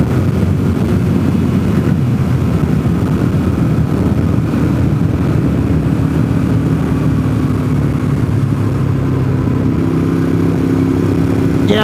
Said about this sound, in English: everybody who's my age is out here riding their Can-Am